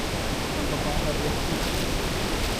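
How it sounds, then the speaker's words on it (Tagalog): A waterfall gives a steady, even rush of falling water, heard at moderate level as a constant broadband wash with no break. "Tignan niyo yung falls, guys."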